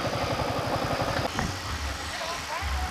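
A motorcycle idles as it is parked near a waterfall: a low, steady rhythmic engine putter in the first second, then subsiding into rumble, with someone talking over it.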